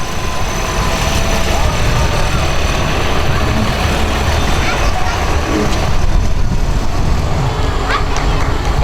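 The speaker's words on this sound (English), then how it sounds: "1206 International Antique Farm Tractor." Engine of a 1206 International antique farm tractor running steadily at idle in a fair parade, a continuous low rumble with crowd and street noise mixed in.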